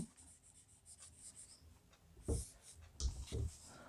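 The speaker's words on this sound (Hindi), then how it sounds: "हम यहाँ पर लिख देंगे" Chalk or marker strokes on a board during a Hindi-language Class 10 trigonometry lesson, a few short scratchy rubs clustered near the end, faint and close, with quiet room noise and a little speech around them.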